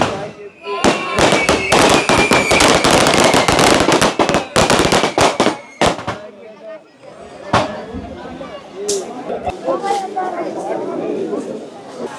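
Firecrackers and fireworks at the Kadalachchi Amman temple festival in Periya Kallar, a loud, dense barrage of rapid cracking bursts that thins into scattered pops, with people talking throughout.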